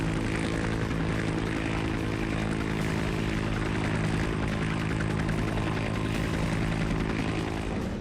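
An American cargo aircraft flies with a steady, loud propeller and engine drone that holds without a break, with no talk over it.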